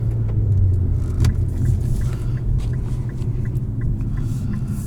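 2019 Infiniti Q50S Red Sport 400 driving in Sport Plus mode, a steady low engine rumble heard from inside the cabin with faint light rattles over it.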